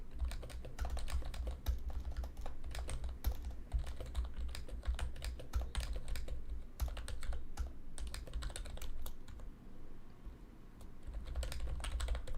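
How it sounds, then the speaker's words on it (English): Rapid typing on a computer keyboard, close and steady, with dense irregular clicks and brief pauses, under a low background hum and with no talking. "I'm typing."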